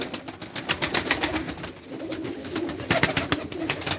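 Tumbler pigeons coo softly in a loose, repeating rhythm, with faint rustling and scattered clicks around them nearby.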